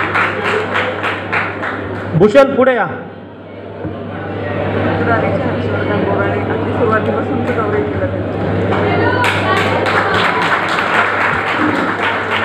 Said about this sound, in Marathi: भूषणसाठी सर्वांनी टाळ्या वाजवायच्या आहेत.